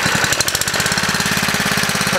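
Honda GX140 small single-cylinder engine running close to the mic, a loud, steady, rapid chugging pulse with a few sharp backfire-like pops near the start.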